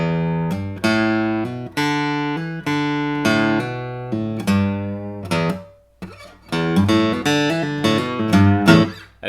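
Beginner guitar lick on a clean guitar, single notes picked in a slow phrase with hammer-ons, pull-offs and a string bend, ringing clearly, loud and close with no voice.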